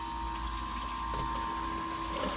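A boat's bilge pump hums steadily as it pushes water out through the hull, a faint constant tonal whine with a low watery rumble and no talk.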